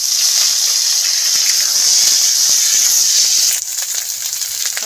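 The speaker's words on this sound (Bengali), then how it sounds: "এবারে দেব গোল আলু মিষ্টি আলু গাজর একটু কষিয়ে নেব।" Potatoes, sweet potatoes and carrots sauté in hot oil with five-spice tempering and dried chillies, giving a loud, steady sizzle that runs unbroken and drops slightly near the end.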